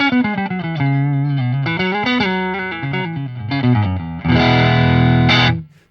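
Ibanez Prestige AZ2200 electric guitar played through its position 5 neck pickup, a warm, slightly driven tone with an effects sheen, picking a melodic run of notes before a sustained strummed chord that rings out and fades.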